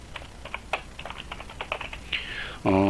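Quick, uneven keystrokes on a computer keyboard as a number is entered into a file name, close and clear, followed by a short electronic tone at the end.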